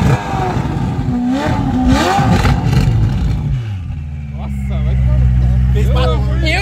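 A Ferrari's engine revs loudly with rising and falling pitch while excited voices talk over it, and it settles into a deep, steady roar near the end.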